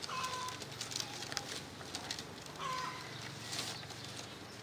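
Thai titan pigeons in their coop give soft, low cooing calls over a steady background hum, with a few faint scattered chirps and rustles.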